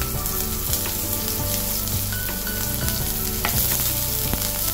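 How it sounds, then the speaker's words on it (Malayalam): Onions frying in hot oil for a spicy brinjal curry, a steady loud sizzle with occasional stirring clatter throughout, no voices. "എന്നിട്ട് നമ്മൾ നോക്കി വെച്ചേക്കണ സവോള ഇട്ട് കൊടുക്കുക"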